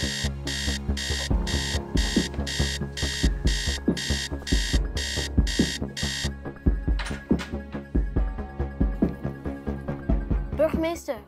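An alarm rings in rapid, evenly spaced electronic bursts for about six seconds, loud and close, then breaks off into scattered tones and softer sounds.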